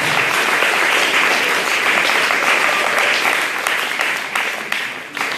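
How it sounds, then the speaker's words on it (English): Audience applause at a Kickstarter launch party, dense and sustained clapping close by for about five seconds, tapering slightly toward the end. "I want to give a round of applause"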